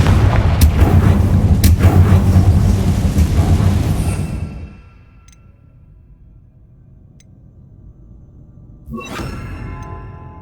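A Confringo fire spell in the video game Hogwarts Legacy goes off in a loud, crackling, rumbling burst that fades into near silence before a second sharp impact.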